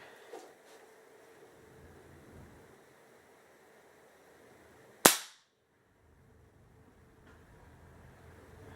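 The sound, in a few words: airgun shooting a BB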